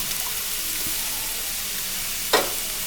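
Beans and capsicum frying in a pan for vegetable noodles make a steady, moderate sizzle, broken near the end by a short clatter of stirring, with no voices.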